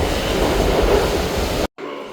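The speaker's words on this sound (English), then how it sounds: "I like metro." A Budapest metro train rumbles loudly and steadily from inside or close by, a dense roar that cuts off abruptly near the end and then resumes.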